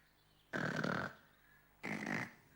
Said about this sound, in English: Sounds like my office is snoring